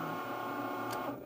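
A cutting machine draws with a pen while making a Mickey tic tac toe game, a steady mechanical whir with a brief higher buzz near the end, close and without voices.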